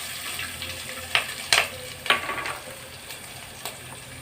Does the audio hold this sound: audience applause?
no